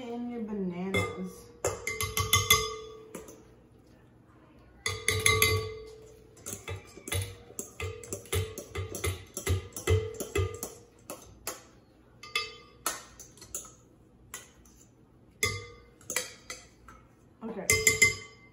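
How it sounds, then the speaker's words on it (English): Mashed bananas are spooned into a stand mixer bowl with repeated clinks and taps of spoon on bowl in an irregular rhythm, while someone talks throughout. "Now you're gonna unlock your mixer yet again and just spoon in your bananas."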